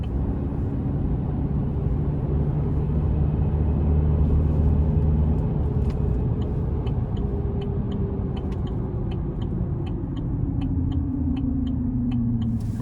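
A 2024 Chevrolet Silverado 1500 Custom Trail Boss with a turbo engine accelerates on the road, a steady, deep rumbling drone that climbs slowly in pitch, heard from inside the cab with faint ticking and no talk.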